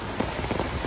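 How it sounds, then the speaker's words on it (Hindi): Heavy rain pours steadily in a dense, hissing wash, with scattered louder drops pattering close by throughout. "बारिश देखो भाई कुछ नहीं दिख रहा"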